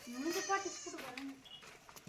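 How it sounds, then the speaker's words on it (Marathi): A lame goat bleats close by on a farm with a few wavering calls, and a person speaks quietly between the bleats. "हे बघा, ही लंगडी शेळी"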